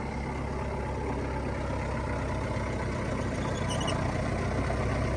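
A mini John Deere tractor engine runs steadily with a dense, even drone while its steering wheel is turned, with no talk over it.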